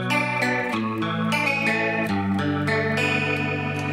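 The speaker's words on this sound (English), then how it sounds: "So I turned on an effect, and this is, that in particular is like a Leslie, kind of sounds like an organ part" Electric guitar played through a Leslie-style rotary speaker effect that gives an organ-like swirl, sustained chords shifting and pulsing with chorus-like wobble, loud and alone for a power ballad pre-chorus part.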